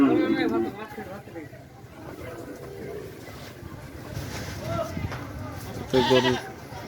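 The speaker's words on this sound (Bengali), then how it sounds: "ওটা কি আপনাদের ছাগল" A goat bleats at the crowded Postogola cattle market, with one call near the start and another near the end amid steady crowd noise and nearby talk.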